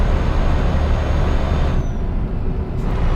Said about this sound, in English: the sound of the truck